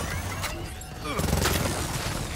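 A sniper rifle, the M-bar, fires in Gears of War 4 with a sharp crack and booming report, followed by a second burst, over continuous game background noise.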